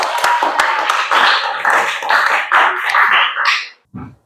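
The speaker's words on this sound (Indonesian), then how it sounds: "Kita beri tepuk tangan untuk kelompok 2." A classroom group of students claps for a presenting group, close, loud, irregular hand claps with some voices mixed in, fading out before a brief final burst.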